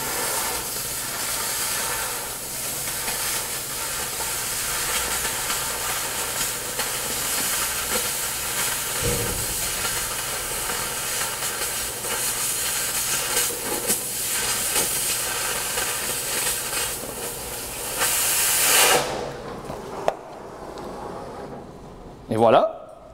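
A cutting torch slices through metal during welding work, giving a steady loud roaring hiss that runs unbroken for most of the stretch, then cuts off abruptly near the end, leaving a few faint clanks and scrapes.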